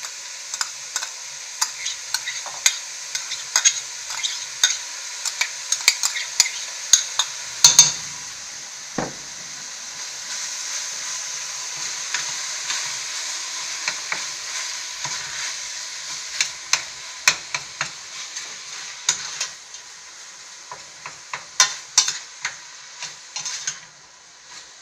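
Onions frying over high heat in a pan for homemade bolognese lasagna, a steady bright sizzle with frequent scraping and clicking stirring strokes throughout, close up, no talk.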